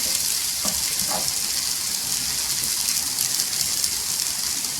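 Crushed peanut and potato mixture sautéing in oil, a loud continuous crackling sizzle with a couple of brief stirring scrapes near the start, no voices.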